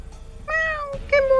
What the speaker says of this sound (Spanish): Gatito, ven con papá.